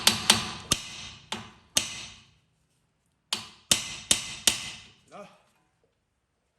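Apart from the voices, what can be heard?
hammer tapping a screw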